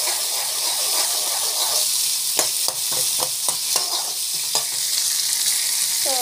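Onions, green chillies and garlic sizzle in hot oil for a chutney, a steady broadband frying hiss punctuated by a quick run of sharp spoon-against-pan stirring clicks, close and continuous with no talking.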